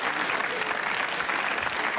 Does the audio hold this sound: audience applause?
yes